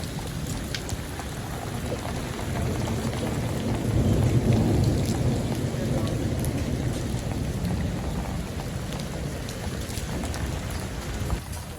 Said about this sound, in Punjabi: ਬਹੁਤ ਤਕੜਾ ਮੀਂਹ ਹੈ